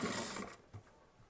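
A sewing machine stitching kurti fabric, a brief fast whir that stops after about half a second, followed by a soft mechanical clunk.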